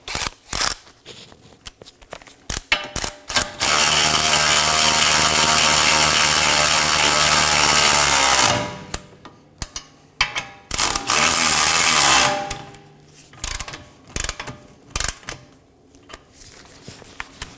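A ratchet snugs down bolts on the rear trailing arm of a 2018-2024 Toyota Camry, with clicking handling at first, then a long loud continuous run, a shorter second run and more scattered clicks.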